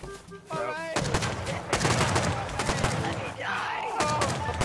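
Rapid gunfire in the survival game Rust, with sharp bursts of shots rattling almost continuously, close and loud over chaotic in-game noise and shouting voices.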